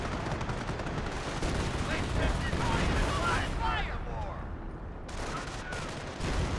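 Artillery barrage in Company of Heroes, dense continuous rumbling blasts and crackling gunfire, with whistling shells overhead and a brief lull near the end.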